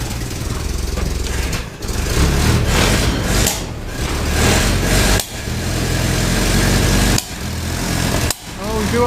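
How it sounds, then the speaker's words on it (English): A Ford GPW jeep engine idles after carburetor work, a steady loud mechanical running sound with brief dips in level, close by. "So I'm just going to let it idle there for a little while."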